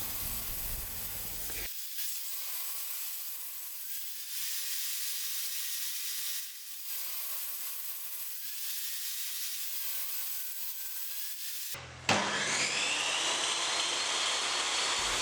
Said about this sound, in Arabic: بعد كده نقطع الشكل المطلوب.